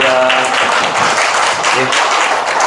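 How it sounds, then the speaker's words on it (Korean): Church congregation applauding together after a pastor's call during a Korean worship service, a steady dense patter of clapping filling the room, with brief voiced sounds mixed in. "우리 하나님께 한 번 더 박수를 올려드려요"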